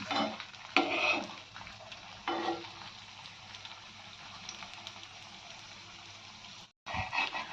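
A meat-stuffed snack sizzles in hot oil in a pan while a spoon turns it over, with a few sharp scraping stirs over a steady close frying hiss.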